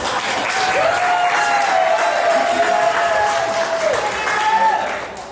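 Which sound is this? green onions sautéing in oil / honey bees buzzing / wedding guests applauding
wedding guests applauding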